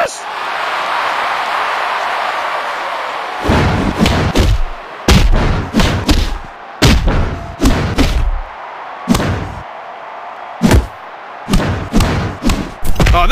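Wrestlers slammed to the mat in WWE Mayhem, a mobile wrestling game: a run of heavy, booming thuds and impacts in irregular bursts, loud and close after a stretch of steady crowd-like roar.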